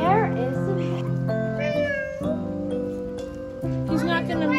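A person imitates a cat's meow several times at a desert zoo, the voice rising and falling in drawn-out mews amid other people talking nearby.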